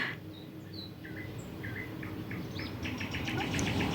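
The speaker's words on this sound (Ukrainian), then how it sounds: "Чую крізь вікно соловейко співає" A nightingale sings in varied whistles and rapid trilling phrases, somewhat distant through an open kitchen window, over a low background hum, growing busier toward the end.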